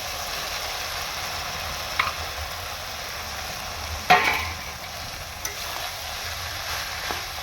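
Figs and potatoes go into hot oil in a pan, giving a steady broad frying hiss with a few clinks and one louder scrape of a utensil partway through.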